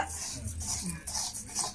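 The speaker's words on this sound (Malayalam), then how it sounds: "അരി വറക്കുന്നേ" Ration rice being dry-roasted in a pan is stirred with a metal spoon, giving soft close scraping and clinks over a faint sizzle.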